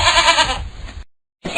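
A cartoon goat from a Three Billy Goats Gruff children's story bleats loud and near for about a second, then falls silent before another sound begins.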